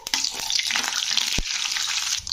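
Close, steady crackling sizzle of whole spices frying in hot oil on low heat, with a sharp knock of a utensil partway through; no one speaks.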